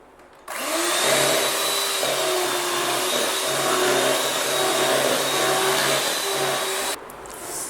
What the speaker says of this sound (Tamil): இப்போ இதை வந்து பிளெண்ட் பண்ணிக்கலாம்.